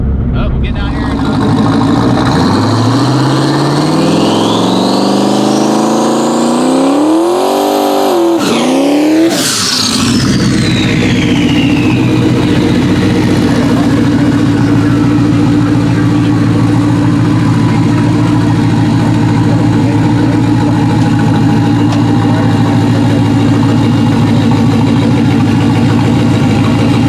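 A loud drag car engine roars and revs up sharply, then drops back to a rough, rumbling idle that drones on steadily for a long stretch.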